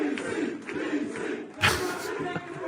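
A packed, standing-room-only UFC arena crowd roars and cheers at the DC reveal, a dense wall of shouting with a louder surge partway through, heard from a distance.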